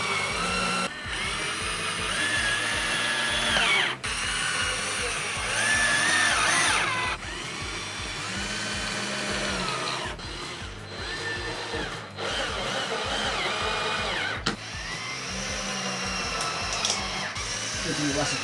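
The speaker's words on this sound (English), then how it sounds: "Going to use these little self-tapping metal screws, even they're going into plastic. We're just gonna drill them in there." A power drill drives self-tapping metal screws into a plastic ATV fender in several steady whirring bursts, each separated by brief pauses, loud and close.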